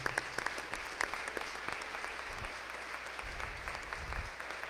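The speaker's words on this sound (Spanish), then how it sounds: "Y a ellas también le damos un fuerte aplauso." Congregation at a Saturday afternoon Mass applauding for mothers, living and departed, a fairly soft, scattered clapping with distinct individual claps and a few low bumps, steady across several seconds.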